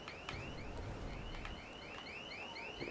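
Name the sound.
alarm ringing in the video game Dead Island 2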